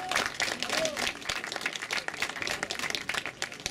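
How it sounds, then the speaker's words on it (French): Audience applause for a cycling race winner on the podium at the Etoile de Tressignaux 2018 race, a steady close clapping patter lasting throughout, mixed with crowd noise and some voices. "Vous pouvez l'applaudir,"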